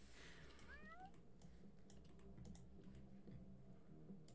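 A cat meows in The Sims 4, a short rising-and-falling mew near the start, faint, followed by quiet computer keyboard clicking in the background.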